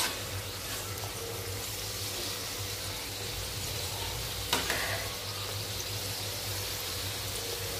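Karanji pastries fry in hot oil with a soft, continuous low sizzle, and one brief clink rings out as they are flipped; no voices are heard.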